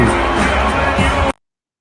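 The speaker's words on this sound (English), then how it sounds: "He's getting booed there." Arena crowd at Staples Center loudly booing Clippers forward Kawhi Leonard during a game against the Lakers, a sustained dense roar of voices that cuts off abruptly after about a second.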